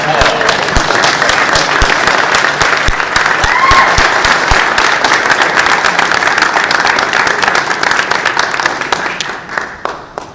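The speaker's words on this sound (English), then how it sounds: "give Errol McCoy a round of applause" Loud, sustained applause from a large crowd, dense clapping that continues steadily before tapering off at the end.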